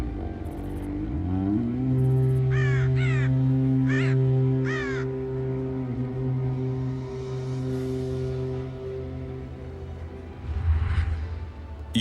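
Crow caws from a raven druid unit in the video game Warcraft 3 ring out in several short harsh bursts over a sustained low synthetic drone and whooshing game ambience.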